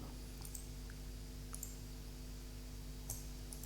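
Mouse clicks while selecting a menu in a purchasing app, sounding as a few sharp, faint clicks spread over a few seconds against a quiet hum.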